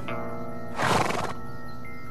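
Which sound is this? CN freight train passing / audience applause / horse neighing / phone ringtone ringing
horse neighing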